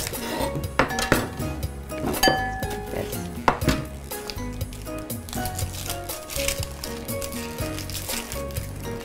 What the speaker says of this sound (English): we're going to take our onions and slice them up